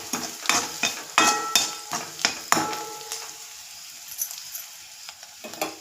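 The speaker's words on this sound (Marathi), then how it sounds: "मिक्स करून घेऊया." A spoon stirs a capsicum and potato mixture in a frying pan in a series of rhythmic scraping strokes, about one per half second, over a soft sizzle, then trails off into quieter frying.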